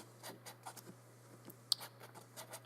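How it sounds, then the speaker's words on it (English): Sharpie marker writing on thick paper, a soft scratchy patter of short strokes near and quiet, with one sharp tap partway through and no voices. "I don't really love to write in Sharpie"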